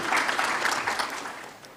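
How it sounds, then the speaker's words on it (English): Audience at an annual general meeting applauding, a brief burst of dense clapping from many hands in a hall that gradually fades. "I would humbly request that you give yourselves a round of applause"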